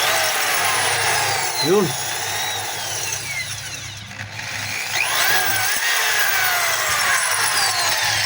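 A DeWalt DWD014 3/8-inch corded drill running continuously in reverse and forward, a close, steady whirring motor with a slight dip partway through, under intermittent talk.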